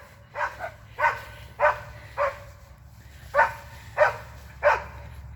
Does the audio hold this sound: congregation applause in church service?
no